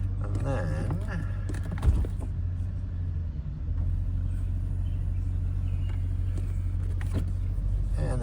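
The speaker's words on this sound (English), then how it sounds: "I'll actually start the car here." A 2010 Mercedes-Benz SL550 AMG Roadster engine turns over and settles into a smooth, low idle that hums steadily, heard fairly quietly from inside the cabin.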